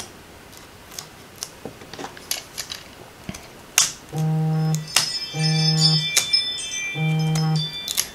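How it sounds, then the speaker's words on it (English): A Ring doorbell buzzes three times in quick succession, each a steady, fairly loud humming tone lasting under a second, over light ticking and clicking in the room. "So that's my ring doorbell that you keep hearing buzz."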